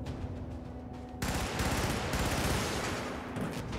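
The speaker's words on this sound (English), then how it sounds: "Oh, this is a scatter gun," Scatter gun blasting in the Helldivers video game, dense sustained gunfire that bursts in after a quieter opening and stays loud and continuous to the end, no talking over it.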